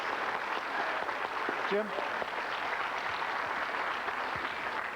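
A crowd applauds the winner Nick Varner at a 1989 9-ball pool tournament, a dense, steady patter of clapping that fills the whole stretch, with a brief voice calling out partway through.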